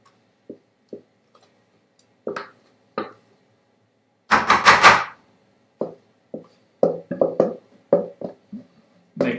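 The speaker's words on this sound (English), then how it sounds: "I'm going to take our tin and we're going to spoon it all into that tin." A spoon scrapes and taps cake batter into a baking tin for Christmas cake pops: scattered close clicks and knocks, one longer scraping burst midway, then a quick run of taps.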